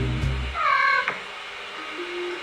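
A cat lets out a single clear, drawn-out meow while weaving through an obstacle slalom course, alone and close by.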